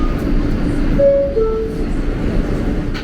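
A New York subway F train arriving at Bergen Street station, a steady close rumble of the rail car with brief tonal squeals of wheels or brakes rising above it.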